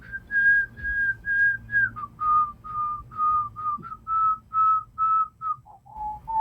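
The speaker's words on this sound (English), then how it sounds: "whistling a Mozart symphony" An AI-generated whistled tune carries a flowing Mozart symphony melody in clear sustained phrases, with a faint low hum underneath.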